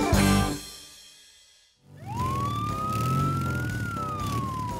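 A cartoon police motorbike siren sweeps up and holds a steady wailing tone over lively background music, loud and close after a brief musical lead-in.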